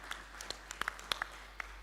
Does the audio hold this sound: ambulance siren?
no